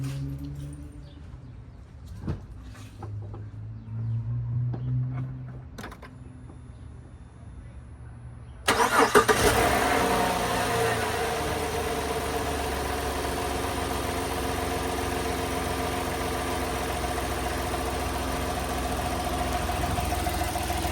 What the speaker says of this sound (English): I'm actually just gonna turn the truck over here.